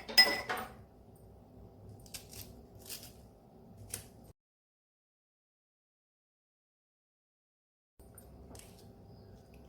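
Green chillies being cut up for chicken 65, giving a few light knife and utensil clinks and taps on a board or dish in a quiet kitchen, with a silent gap partway through.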